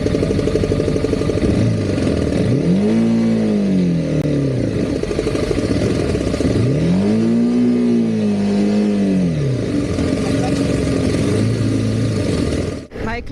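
A broken-down motorcycle with a burnt clutch revs loudly up close, its engine swelling and falling in two long rising-and-falling surges over a constant rough idle.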